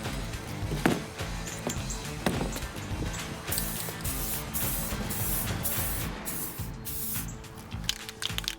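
Aerosol spray paint can hissing in long sweeping bursts over a car radiator from a 1999 Porsche Boxster, close and steady with short gaps between passes.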